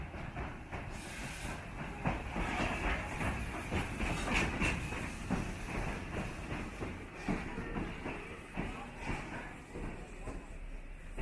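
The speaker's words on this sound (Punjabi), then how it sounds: "ਉਹ ਤੁਰੀ ਆਉਂਦੀ ਆ ਟ੍ਰੇਨ" The Cockle Train, a coal-fired steam train at Victor Harbor, South Australia, rolls in with a continuous rumble, rhythmic wheel clatter and hissing steam, fairly close, while people talk nearby.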